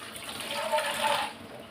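Water is poured from a vessel into a pot of rice for one-pot coconut milk rice, a steady close gush that swells and then fades.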